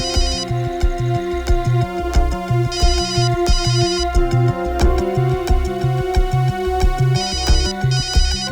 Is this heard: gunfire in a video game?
no